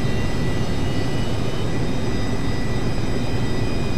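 Rockwell B-1A Lancer jet engines spool up in Flight Simulator X, a steady, loud broadband roar with thin high whining tones held throughout, no voices.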